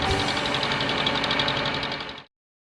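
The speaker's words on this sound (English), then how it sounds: "Listen to that engine purr." A tractor engine runs with a steady knocking idle, loud and close, holding a rough even rhythm before stopping abruptly.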